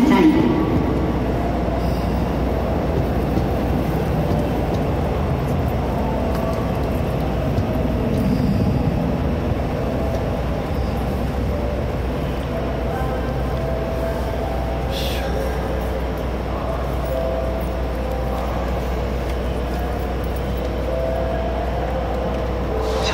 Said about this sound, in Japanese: 3番線に列車が到着いたします。